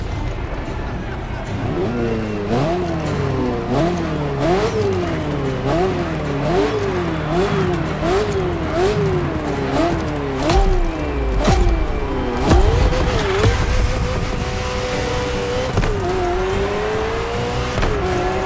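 A Ferrari F40 engine in The Crew Motorfest revs up and down in a repeated rising-and-falling pattern through gear changes, loud and close, with a voice talking over it.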